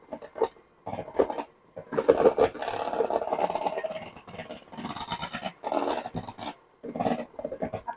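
An electric mixer whips cream into butter in a deep, noisy bowl, a loud rattling whir that scrapes against the sides in uneven bursts with short pauses, with no talk over it.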